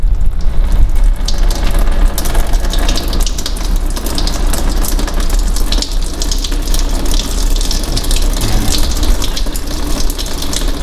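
Coolant drains from the bottom tap of a Dodge Grand Caravan 3.6 V6 radiator, a steady close gush of liquid running continuously and fairly loudly with no pauses.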